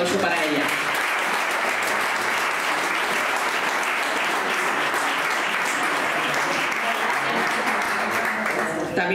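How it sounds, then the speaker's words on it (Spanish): Audience applause at a town festival ceremony in Marcilla, a dense, steady wash of clapping from a large crowd that holds loud and even for about nine seconds, with some voices mixed in. "Un fuerte aplauso para ella."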